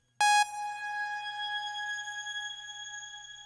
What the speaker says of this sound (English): hopefully you can hear how that reverb tail is kind of going upwards in pitch.